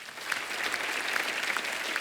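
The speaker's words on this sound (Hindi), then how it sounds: "एक बार जोरदार तालियां हो जाए।" Dense, continuous applause from a studio audience on a comedy talk show, even crackling clapping throughout at moderate loudness with small individual claps popping out, no voices standing out.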